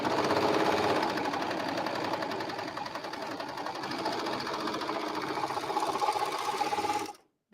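A serger sewing machine stitches fabric in a fast, steady mechanical whir with rapid rhythmic ticking, running loud and close for about seven seconds before stopping abruptly.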